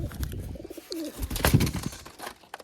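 Pigeons cooing near a water bowl set out for them at home, soft low coos repeating in short bursts amid faint background noise, with no talking.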